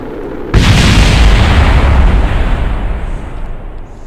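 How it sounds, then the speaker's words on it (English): A mystery goo containment unit blows up in the Kerbal Space Program video game, a sudden loud boom that hits hard and then rolls into a long, rumbling roar fading slowly over several seconds. "the mystery goo containment unit exploded"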